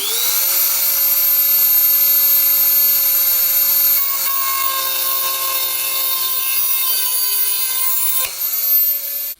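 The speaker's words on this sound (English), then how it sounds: "I have chosen to attack that section with my Dremel." A Dremel rotary tool cutting with small thin discs whines loudly and steadily at high pitch, close up and alone, with a slight pitch drop and a brief bump near the end.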